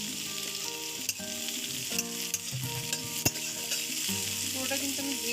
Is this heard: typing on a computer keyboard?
no